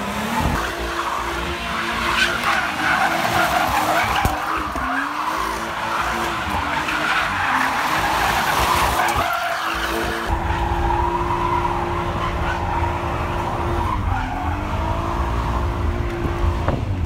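A BMW M140i drifting and doing donuts, with loud, sustained tire squeal and skidding over a revving engine, the pitch sliding up and down as the car circles and accelerates nearby.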